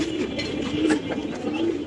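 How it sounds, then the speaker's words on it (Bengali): A pigeon offered for sale gives soft, repeated low cooing over a steady background hum, moderately close, with no one talking. "আসলে খুব সুন্দর একটা কবুতর"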